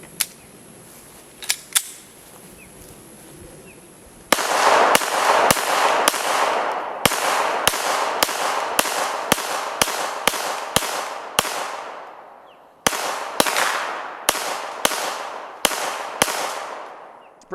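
Springfield Armory XDm pistol with a threaded barrel fired at a range: after a quiet lead-in, about fifteen loud, sharp shots in a rapid string with a short pause, each ringing briefly.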